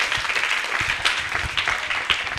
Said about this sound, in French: On les accompagne avec encore les applaudissements.